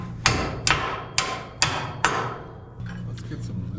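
On farm equipment, a hammer taps five times, evenly spaced and ringing, to knock a U-bolt loose, then several fainter light taps follow, all close by with no talk over them.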